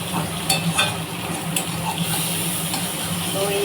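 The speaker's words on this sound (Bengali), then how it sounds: "আমি এরকম করে এই প্রথমবার রান্না করছি লোটে মাছের তেল ঝাল" Bombay duck (loitta fish) frying in spicy oil with tomato, a steady close sizzle and crackle with occasional stirring clinks, constant throughout with soft background voices.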